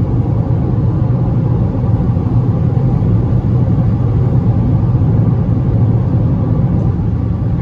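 A Toyota Corolla XEi 2.0, 2021/2022 model, on the move, heard from the cabin as a steady, dense low rumble of engine and road noise that holds evenly throughout, with no voices.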